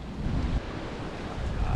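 A strong gust of stormy wind buffets the microphone beside a creek in Santa Rosa, a loud, continuous low roar that swells and surges briefly, with no voices over it.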